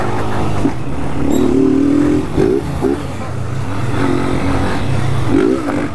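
A light Honda Fan 160 motorcycle rides past with its engine revving and easing off as it brakes. The engine noise is loud and steady, with rising and falling tones and a faint voice in the background.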